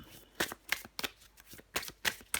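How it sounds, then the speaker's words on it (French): Tarot cards being shuffled by hand, several quick crisp riffling bursts in an uneven rhythm, close and fairly quiet with no talking. "je vais prendre encore une carte pour vous, les cancers"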